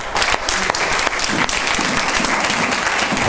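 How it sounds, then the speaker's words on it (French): A church congregation claps loudly for the Lord at the preacher's call, a close, continuous wash of many hands with some individual sharp claps standing out, filling the whole stretch without pause. "Donne-lui un grand applaudissement au Seigneur."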